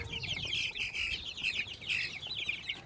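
Several chickens cluck and chatter in quick, overlapping bursts, fairly soft and a little distant, with a low background hum underneath.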